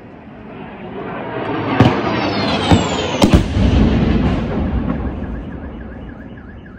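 Missile strike explosions during the war in Kyiv, heard as several sharp loud blasts over a steady roar, with a car alarm wailing afterward.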